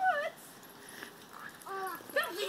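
Dogs whimper and yip in short high whines, some close and some a bit farther, with quiet gaps between bursts.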